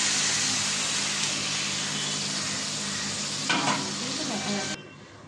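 Vegetables sizzle and crackle steadily in a hot pan while being stirred, a continuous close frying hiss with a brief burst of scraping near the end before it cuts off.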